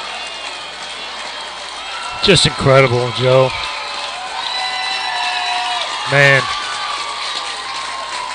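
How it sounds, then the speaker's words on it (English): Baseball crowd at a 5A regional semifinal high school game buzzing with broad, steady murmur and faint cheering after a home run, while a commentator speaks over it in short bursts. "Crowd is still buzzing."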